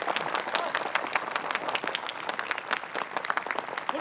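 Sustained group applause in a war film as troops welcome allied comrades, a dense, steady patter of many hands clapping close by for several seconds, evenly loud throughout.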